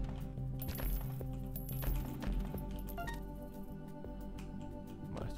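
Coins are scooped up in The Binding of Isaac in quick succession, bright metallic clinks ringing over a steady game music bed.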